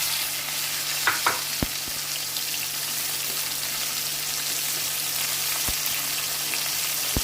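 Karonda fruit frying in hot oil for a pickle, a steady close sizzle throughout with a few sharp clicks and knocks of a utensil against the pan near the start and end.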